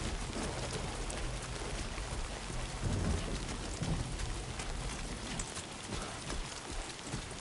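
Steady rain falls in the video game Death Stranding 2, a continuous soft hiss of drops with faint low rumbles beneath it and no talk.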